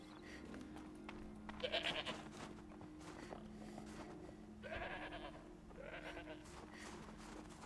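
A goat in the video game Horizon Zero Dawn bleats three times in short, nasal calls, set against a low ambient game soundscape with faint background sound between the calls.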